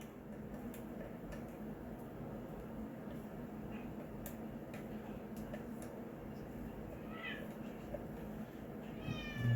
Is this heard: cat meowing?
yes